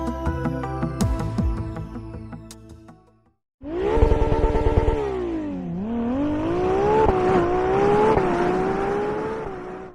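A Ferrari F80 hypercar with a V6 engine: first a rhythmic mechanical section, then after a brief gap a loud, close engine revs and climbs in pitch through several rising sweeps.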